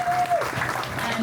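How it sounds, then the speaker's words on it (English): Audience applause at an outdoor Bike to Work Day community event, a short burst of steady clapping that fills the moment, with a voice briefly audible at the start. "Round of applause"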